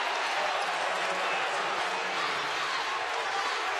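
A crowd at an NCAA women's tournament basketball game between Louisville and Iowa gives a steady roar of cheering and scattered clapping that fills the whole moment.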